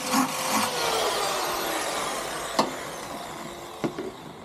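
A drill enlarges a hole while a Bajaj Maxima Z side mirror is being fitted, producing a steady, close grinding and rasping of the bit biting into material. A few sharp knocks break in near the end, and no one speaks.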